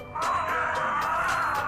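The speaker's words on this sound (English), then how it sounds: "Elephant? Yes, very good." An elephant gives a single loud, brassy trumpeting call that holds steady for nearly two seconds.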